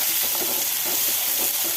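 Chopped onions hit hot ghee with popping mustard seeds in a pan for rava upma, producing a loud continuous sizzle with faint crackling throughout, no voices.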